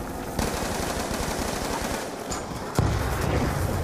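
Shotgun blasts in a video game, loud, repeated bursts over constant battle noise, with a sharp, heavy shot near the end.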